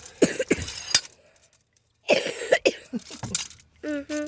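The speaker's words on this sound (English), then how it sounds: "Still got that cough, huh?" A few sharp coughs come in quick succession in a mechanic's workshop, followed by a pause and then some muffled talking and a brief hum.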